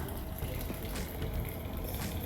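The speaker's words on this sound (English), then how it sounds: "I'm going to add 2 sprigs and pour in 2 cups of water" Water is poured into a large teapot over two rosemary sprigs, a steady close gushing fill that continues evenly throughout.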